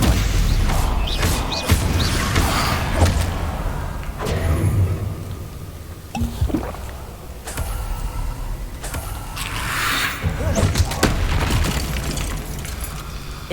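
Spells cast in Hogwarts Legacy, including fire and blast spells, land as dull booms and thuds amid clattering game effects, a steady busy mix of bursts and rumbles with no voice over them.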